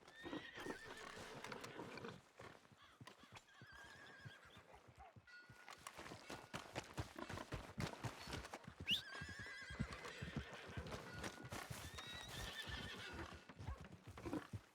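A horse in the video game Red Dead Redemption 2 whinnies and neighs between steady hoof clip-clops, close and fairly loud over a busy game soundscape, with no talking.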